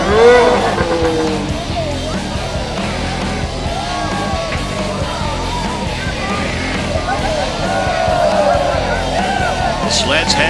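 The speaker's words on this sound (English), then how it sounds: "You can hear them cheering" Crowd cheering and yelling at a snowmobile hill climb in Jackson Hole, a steady roar of many voices mixed with engine noise and sleds revving, loud and continuous throughout.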